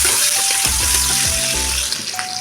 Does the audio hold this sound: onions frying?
yes